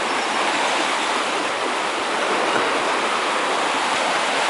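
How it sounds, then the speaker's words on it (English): Water rushes steadily through a river lock on the way to Oxford as the level equalises, a dense, continuous broadband roar close by with no talk over it. "It's equalising the water level"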